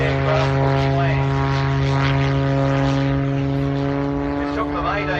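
A homebuilt Super Stinker propeller plane, built from plans and flown in the experimental category, drones steadily overhead at an airshow, its engine giving a loud, continuous note with a slight pitch shift while a crowd murmurs faintly underneath.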